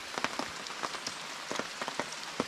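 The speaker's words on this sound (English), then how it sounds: "it's like that annoying rain that just kind of sprinkles, quits for a little bit, sprinkles again" Light sprinkling rain at a campsite, scattered drops tapping a surface in an irregular patter, quiet and close with brief clusters of louder hits.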